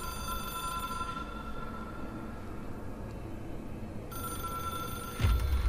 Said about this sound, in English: It is a phone.